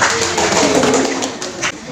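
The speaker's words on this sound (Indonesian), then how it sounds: "Terima kasih, tepuk tangan." A classroom of students claps after a presentation on zakat in an Indonesian madrasah teaching session, giving dense, close, steady applause that fills the short moment and thins slightly toward the end.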